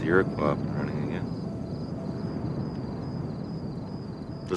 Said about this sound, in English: Sounds like Critchley's got the Iroquois up and running again.